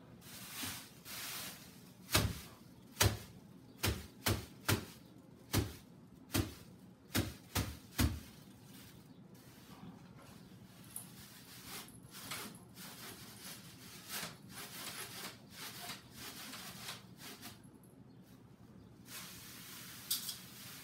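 Plastic bags crinkled, rubbed and snapped as a musical composition, starting with a run of sharp, loud rustling bursts in an uneven rhythm, then fading into softer, continuous crackling and scrunching.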